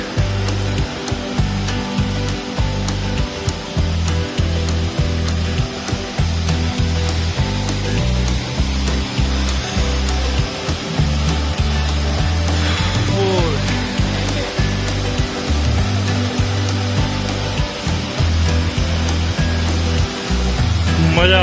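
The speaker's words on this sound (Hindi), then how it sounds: "तो हम पहुंच गए हैं उस झरने के पास।" A waterfall on the Madhmaheshwar trek in the Himalayan mountains roars with a loud, continuous rush of falling water close by, and someone talks over it.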